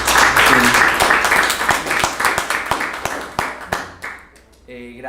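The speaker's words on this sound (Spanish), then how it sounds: "y pido un aplauso porque realmente" An audience applauds at a lecture on nun burials in Michoacán convents, loud, close clapping that starts dense, thins into scattered individual claps and fades out, after which a voice begins speaking.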